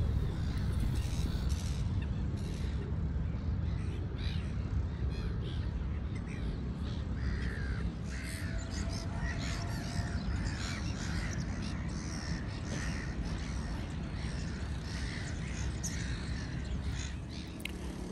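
Crows caw repeatedly over steady street and traffic noise in central Riga, Latvia, their calls fairly close and standing out clearly through the whole stretch with no talking.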